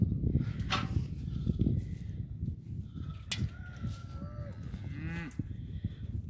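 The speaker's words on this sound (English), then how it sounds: "No, that's a cow." A cow moos on a farm, a fairly faint, drawn-out low call heard toward the end over a soft outdoor background, with a few other scattered sounds and no clear speech.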